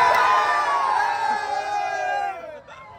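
A large crowd cheers and shouts loudly and continuously at a kite-flying final match, the roar easing off toward the end.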